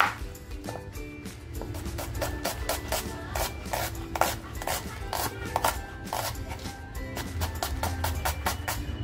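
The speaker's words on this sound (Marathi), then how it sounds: "कांदा बघा अगदी बारीक कापून घेतेय" An onion being finely sliced with a knife, steady rhythmic cuts repeating close by in a village kitchen, with background noise and faint talk underneath.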